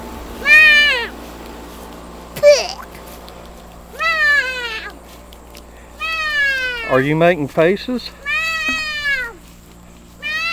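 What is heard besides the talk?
cat meowing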